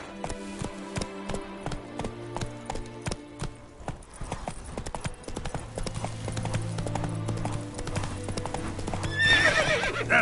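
Hooves of Roach, the Witcher 3 horse, clop in a quick, even run that blends into a steadier galloping rumble, and a neigh follows near the end, heard close over background music.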